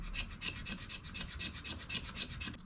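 Knife spine scraped repeatedly along a ferro rod, about ten quick, rhythmic rasping strokes close up, with no voices.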